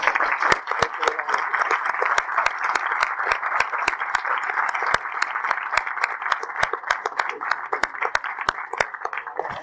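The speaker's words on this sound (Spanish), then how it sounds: "Le pido un fuerte aplauso para este gran genio de la ovniología que es Salvador Freixedo" Audience at a world ufology congress applauds a speaker introduced on stage, a steady dense clapping throughout, fairly close and loud, with sharp individual claps standing out over the crowd.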